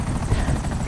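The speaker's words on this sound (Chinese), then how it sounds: "攻击直升机部队。" An attack helicopter in the video game GTA Online whirs with a continuous rotor drone, steady and fairly loud, heard alone with no speech.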